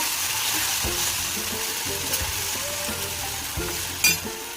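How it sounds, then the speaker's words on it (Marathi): Green hyacinth bean pods (ghevda) sizzle steadily in a hot pan as they are stirred, with repeated close scrapes and light clinks of a spoon against the metal over the constant frying hiss. "ह्याच्यामध्ये डायरेक्ट शेंग टाकायचं"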